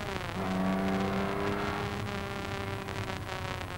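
A 1956 Jaguar D-type race car at Le Mans accelerates hard with a loud, continuous engine roar and rising tones heard from on board, with wind rush filling the background.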